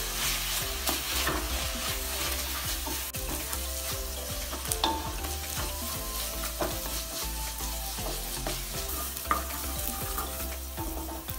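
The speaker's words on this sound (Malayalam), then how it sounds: "ഉപ്പ് ആഡ് ചെയ്യുമ്പം സവാള പെട്ടെന്ന് തന്നെ വഴണ്ടു വരാൻ സഹായിക്കും." Onions for tuna biryani sauté in oil in a clay pot, with a steady sizzle and frequent scraping stirs against the pot, close and continuous, no voices.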